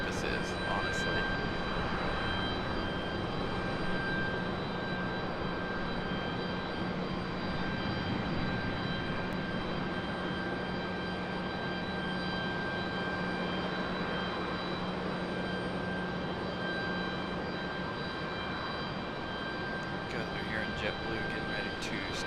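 Jet aircraft at Raleigh-Durham International Airport, including a JetBlue plane starting up just below, produce a constant droning whine with steady tonal hums, loud and unbroken over murmuring voices.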